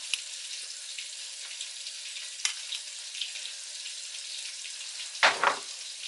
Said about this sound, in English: So I'm adding the tomatoes now.